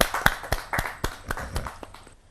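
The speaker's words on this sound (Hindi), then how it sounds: "जोरदार ताली के साथ प्रीति त्रिपाठी" Audience at a Hindi kavi sammelan poetry gathering giving scattered applause: a handful of distinct, separated claps that thin out and fade toward the end.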